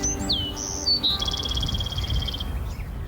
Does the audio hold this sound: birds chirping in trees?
yes